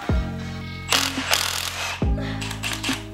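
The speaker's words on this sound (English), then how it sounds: "I began removing the bolts to disconnect the gearbox from the motor" A wrench ratchets on bolts holding a Toyota 4A-GZE gearbox to the engine, with loud metallic clicking and short ratchet runs in two bursts, close up and with no talking.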